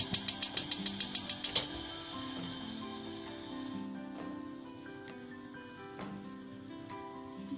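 A stove burner's igniter clicks rapidly, about ten sharp ticks in quick succession, then stops, leaving a quiet room hum with a few faint clatters.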